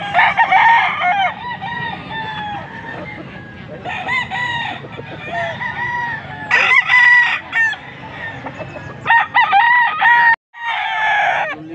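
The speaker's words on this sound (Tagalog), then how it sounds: "Dala yung manok." Gamecocks at a Bonifacio Day event in Pampanga crow again and again, loud and close, their long calls overlapping with clucking hens between bursts.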